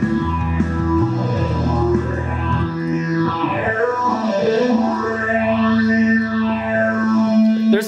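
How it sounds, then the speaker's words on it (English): An electric guitar solo with heavily sweeping phaser and a wash of reverb, notes sliding up and down over sustained chords. "this part turns into like a typical kind of rock solo, but keeping with that drenched reverb and phaser effect"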